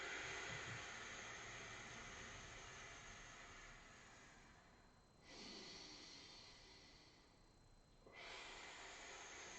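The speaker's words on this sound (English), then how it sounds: "and then breathe all the air out." A long, forceful exhalation of all the air out of the lungs after wide rib breathing, a steady breathy rush that runs for several seconds, softens briefly, then resumes with fresh breaths, close and alone.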